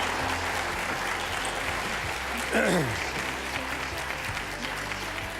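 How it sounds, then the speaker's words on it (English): A talk-show studio audience applauds as a college golf coach comes up on stage, a broad, steady wash of clapping with a voice briefly rising above it midway. "But how about a big round of applause?"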